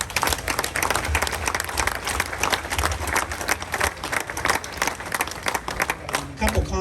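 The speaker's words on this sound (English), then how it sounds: "who at this point deserve a round of applause" An audience at a St. Alfio Society honoring ceremony gives a sustained round of dense clapping, loud and close, which tapers slightly near the end.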